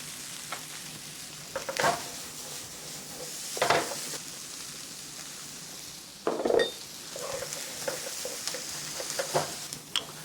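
Corn sautéing in a little oil in a pan, a continuous sizzle broken by several louder scraping stirs and clinks of a utensil against the pan, close and without talk.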